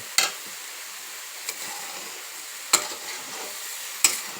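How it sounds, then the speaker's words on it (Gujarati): Carrots roasting in ghee in a pan for carrot halwa, with a steady close sizzle and a few sharp scraping stirs of a spoon against the pan at intervals. "अत्यारे आ गाजर શેકી रही है। आना अंदर घी अने थोड़ुं मरस एड करेली है।"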